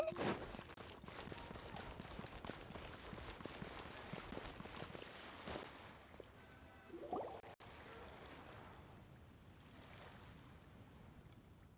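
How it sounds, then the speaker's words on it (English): Firework-shooting toys at the Lantern Rite festival in Genshin Impact crackle in a dense, rapid volley of pops and bursts over a festive background, fading to a softer hiss near the end. "They're toys that shoot fireworks."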